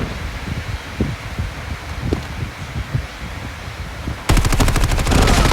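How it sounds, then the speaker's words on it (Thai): Gunfire in the mobile shooter game Call of Duty Mobile: scattered single shots over rustling and wind ambience, then a loud, rapid automatic burst that runs to the end. "ผมยิงช่วงล่างมัน มันยิงหัวผม"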